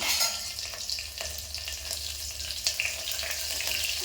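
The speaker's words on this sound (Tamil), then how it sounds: "பூண்டு சேர்த்துட்டு இந்த கருவேப்பிலை இதோட போட்டுக்கலாம். இது ஒரு 1/2 நிமிஷம் போல் வதங்கட்டும்." Garlic and curry leaves sizzle in hot oil after mustard seeds have popped, a continuous frying hiss with scattered small crackles and light stirring taps, heard up close without speech.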